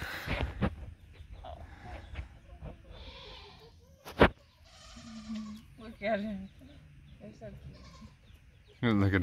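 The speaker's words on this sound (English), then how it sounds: "There's five goats there." Several goats on a farm bleat in short calls scattered around nearby talk and movement, with a louder burst of animal calls near the end.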